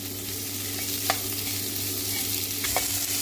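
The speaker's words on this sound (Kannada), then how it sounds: "ಇದು ಫ್ರೈ ಆಗ್ತಾ ಇದೆ" Food fries in oil for a Karnataka village-style dish, making a loud, continuous sizzle close up, broken by a couple of brief metallic clinks.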